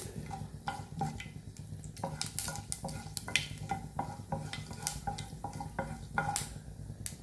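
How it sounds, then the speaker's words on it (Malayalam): Mustard seeds pop in hot oil with irregular sharp pops and crackles over a faint sizzling background, a quick scattered series of small bursts. "കടുക് പൊട്ടി കഴിഞ്ഞ് തുടങ്ങി."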